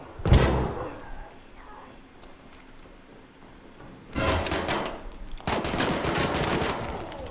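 Bursts of rapid gunfire from the video game Arc Raiders: one sharp shot early, then two long dense volleys of automatic fire near the end, fairly close and loud.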